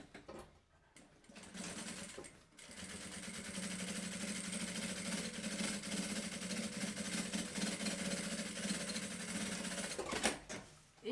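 Sewing machine topstitching a seam on a fabric party bag, a steady close whirring hum of rapid stitching running for most of the stretch after a short start and a brief pause.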